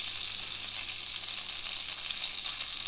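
Bone-in pork sizzling in a pan while being basted with hot fat alongside shallots and garlic, an even, hissing, close-up crackle with no pauses or voices.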